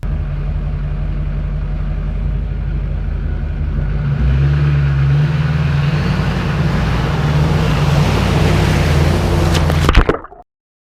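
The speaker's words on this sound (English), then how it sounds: "when I drove by, the wave created by my truck would push the camera off of the log" A pickup truck drives past close by at speed, its engine and tyre roar swelling loud, with water sloshing as its wake surges against a camera perched on a log, ending in a sudden knock and cutoff.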